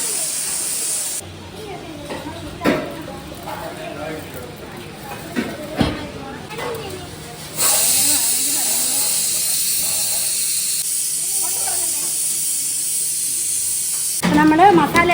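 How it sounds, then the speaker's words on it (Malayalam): Masala spices fry in hot oil for noodles, giving a loud, continuous hissing sizzle for several seconds, with people talking before and after it. "നമ്മൾ മസാല എല്ലാം പൊട്ടിച്ചിട്ട് കഴിഞ്ഞു"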